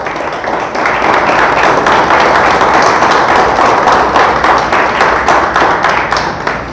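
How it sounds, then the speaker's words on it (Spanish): A church congregation applauds steadily for several seconds, dense clapping filling the room at a loud, even level before tapering slightly at the end. "Le damos un aplauso al Señor."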